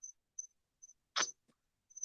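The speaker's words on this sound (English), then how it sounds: "crickets talking to us" Crickets chirp outdoors at night in short, regular high-pitched pulses about every half second, faint and alone, with one brief soft knock in between.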